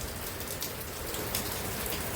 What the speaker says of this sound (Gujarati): જો સવારનો વરસાદ ચાલુ ને ચાલુ